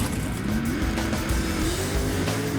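A loud 1955 Chevy Bel Air gasser with a factory 4-speed roars as it accelerates, pitch climbing, dipping briefly at a gear change, then rising again.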